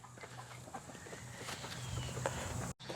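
Chickens, nine weeks old, cluck softly in the background at a moderate distance on a homestead, with scattered bird calls over faint outdoor ambience.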